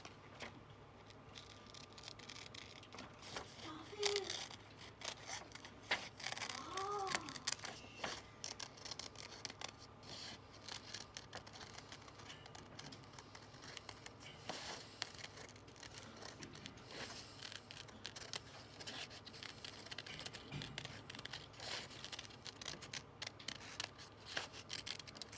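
Scissors snip out part of a paper shape with a long run of quick, quiet, close cuts and small paper rustles, steady and without pause, no voices.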